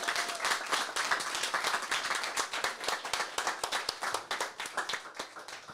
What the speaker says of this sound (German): Also noch schnell einen fetten Applaus aus Dalis